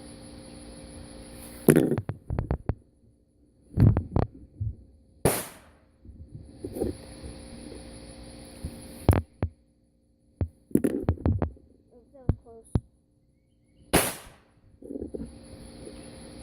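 Black Cat firecrackers go off one after another at irregular intervals outdoors, with about eight sharp, loud pops separated by quieter gaps and a low background hum.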